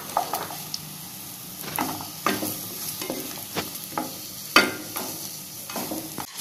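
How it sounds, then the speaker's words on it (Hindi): Jaggery melts in a little ghee in a pan over a low flame, with soft sizzling and a spoon scraping and stirring at an irregular pace, close by, with no talk. "इसमें हम गुड़ को मेल्ट करेंगे धीमी आंच पर। तो धीमी धीमी आंच पर इसको मेल्ट करेंगे।"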